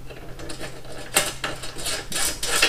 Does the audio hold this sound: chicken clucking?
no